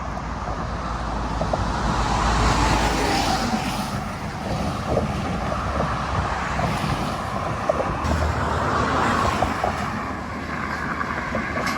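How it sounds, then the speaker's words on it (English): Continuous roar of passing vehicles from a nearby highway beside a bridge near Delaware Water Gap, steady and fairly loud with some wind buffeting, no talking. "Here we are next to a highway, so apologize for the vehicle noise."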